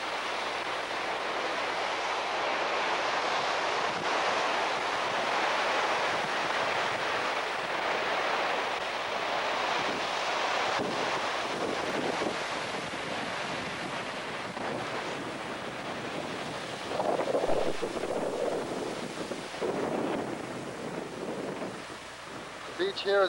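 Pacific Ocean surf breaking where a river meets the sea on a rocky beach with some sand, a steady broadband wash of waves with wind buffeting the microphone, fairly constant and moderately loud throughout.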